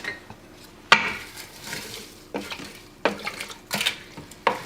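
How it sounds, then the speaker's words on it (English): A spoon stirs onion, garlic and spices inside an Instant Pot, producing a handful of sharp metallic clanks and scrapes against the inner pot, spaced irregularly over a quiet background. "And we're going to give that a stir."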